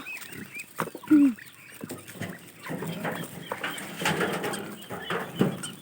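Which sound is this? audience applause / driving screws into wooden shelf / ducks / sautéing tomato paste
ducks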